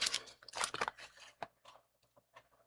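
Scissors snip off a corner triangle of material in a few quick crisp cuts close up, followed by fainter rustles and small clicks, with no talking.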